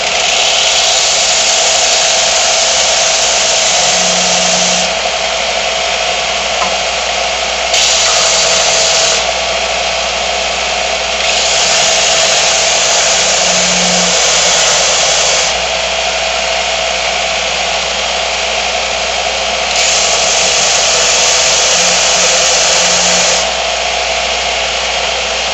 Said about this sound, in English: Randy is using a sander to make the edges smoother